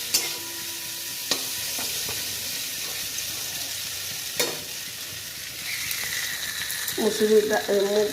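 Boiled red lentils being added to fried potatoes in a pan. A steady sizzle with occasional clinks of a utensil against the pan gives way to louder bubbling and spattering near the end.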